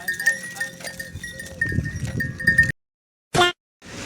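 Sheep and goats at a village cowshed give off livestock noise with ringing bell-like tones and shuffling for a few seconds. A brief silence follows, then a short burst of sound.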